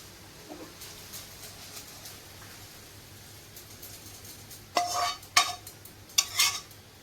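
Fried flattened rice is stirred into puffed rice in a pan. A quiet, near-silent stretch gives way to several close, brisk scraping and rustling strokes near the end.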